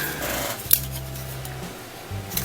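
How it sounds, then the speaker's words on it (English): A plastic part for a 1:25 scale 1978 Dodge Lil Red Truck AMT model kit is snipped off its sprue, giving one small, sharp close click over quiet room tone and faint handling rustles. "This has to get cut off here."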